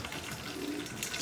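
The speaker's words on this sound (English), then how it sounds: "I'm just going to pour some of that water off" Dirty water is poured off soaking fodder seeds, carrying away floating chaff, a steady close splashing and trickling that swells slightly toward the end, no talking.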